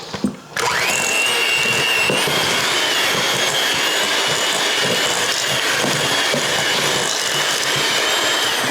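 Electric mixer creaming softened cheesecake ingredients, switching on abruptly after a short quiet moment and then whirring steadily and loudly up close for several seconds with no voices.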